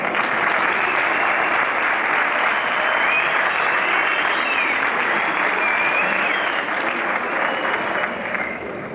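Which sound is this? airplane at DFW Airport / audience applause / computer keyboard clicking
audience applause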